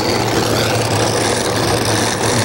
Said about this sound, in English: David Banner, look at the engines. 1, 2, 3, 4, 5, 6 Chevrolets.